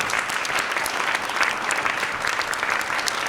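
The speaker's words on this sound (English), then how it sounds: "Let's have a round of applause for these amazing people right here." An audience applauds dancers and performer-choreographers after their live performance, with steady, dense clapping that stays loud and even throughout, with no voices over it.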